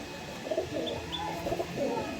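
A Lal Chameli pigeon coos in low, throaty rolling phrases, with faint chirps from other birds nearby and a steady background murmur.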